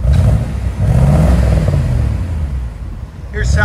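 A 1980 Mercedes 450SEL with its 4.5-litre V8 and Borla Pro-XS exhaust revs loudly and close by, a steady low engine rumble that swells and eases over a few seconds.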